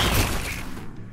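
Plasma cannon weapon fire from the video game Firefall, a loud burst of booming, crackling energy that decays over about a second.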